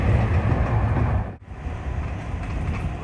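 Express train on the line toward Oimachi, heard from on board as a steady rumbling roar with rail noise and a brief dip in the middle, loud and continuous.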